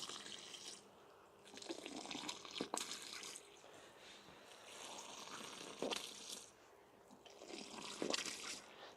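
Water splashes and patters steadily onto potato plants on an allotment, rising and falling in long waves with a few sharper splashes, close by and fairly soft, with no talking.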